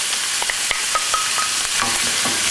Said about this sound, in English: add the onions, which I've chopped earlier.